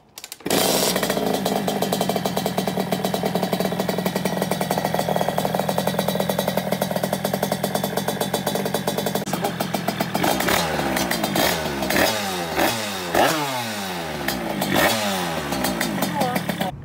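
A motorcycle engine with a newly rebuilt block fires up for its first start and runs loud and rough, then revs up and down repeatedly with rising and falling pitch.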